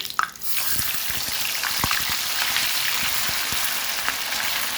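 Marinated pork dropped into hot oil in a pan, a steady loud sizzle with crackling pops and spatters throughout after an initial splash.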